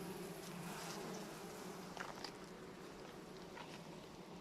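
A steady, dense insect hum fills the clip, many honeybees buzzing close by in an open hive during inspection, with faint rustling and occasional brief clicks.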